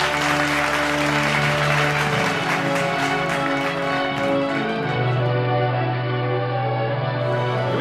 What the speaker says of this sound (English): Do we have a round of applause?